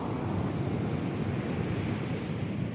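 Ocean surf at Mtunzini rolls in as a steady, loud wash of breaking waves with wind buffeting the microphone, continuous and unbroken with no talking.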